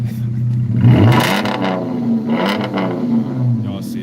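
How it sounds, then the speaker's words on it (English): A car engine revs in a few rising and falling surges, loud and close, with voices mixed in over the engine note. "I'm gonna rev the engine."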